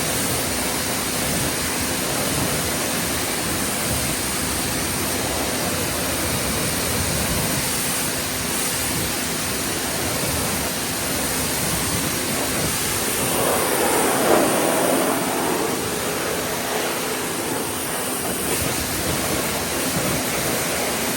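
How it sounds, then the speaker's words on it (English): A water hose gives a vehicle a thorough rinse, a loud, steady, broadband spray of water hissing against the surface for the whole stretch, with no talking. "This is a nice rinse, very thorough rinse."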